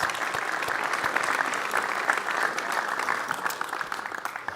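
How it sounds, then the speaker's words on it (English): An audience at a basketball awards ceremony applauds a presenter, a dense, steady clapping from a crowd that holds for several seconds without letting up. "Please give him a big round of applause."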